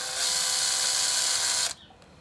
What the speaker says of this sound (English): Drill this hole out.